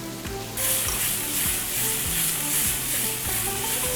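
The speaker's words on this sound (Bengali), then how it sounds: "এই চিকেনটা এই হট প্যানে দিয়ে দিব" Chicken pieces frying in a hot pan, a loud, steady sizzle with a constant hiss close by, and no voices.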